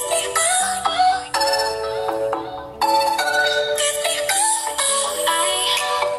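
Music plays from a Xiaomi Redmi 5A phone's built-in speaker at maximum volume: a bright, thin melody with little low end, continuous and close with short breaks between phrases.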